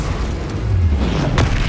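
A fire spell cast in the video game Hogwarts Legacy lands as a dense, rumbling burst, swelling toward the end with a sharp flare of flame near the close.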